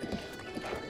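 Horse hooves clip-clop steadily in The Legend of Zelda: Breath of the Wild, a continuous trotting rhythm that sits fairly close under a soft game ambience.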